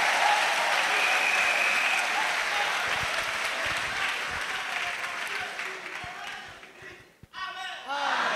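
A church congregation bursts into loud, sustained applause as an offering of acclamation, dense clapping that fills the space and gradually thins, then drops out near the end before a brief burst of voices returns.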